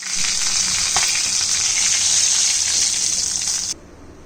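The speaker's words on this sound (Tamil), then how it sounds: "மீன் வறுத்து எடுத்துட்டோங்க" Loud, steady sizzling of leather jacket fish frying in hot oil, a dense hiss that cuts off abruptly near the end.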